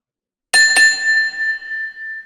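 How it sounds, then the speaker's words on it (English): A bright bell marks the end of a round in a HIIT workout, struck twice in quick succession and then ringing on with a long, clear, sustained tone that slowly fades. "All the way to the bell."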